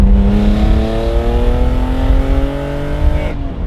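A BMW E28 M5 engine revs and accelerates, its pitch climbing steadily and continuously under load for several seconds before cutting off abruptly; loud and close, with no talking over it.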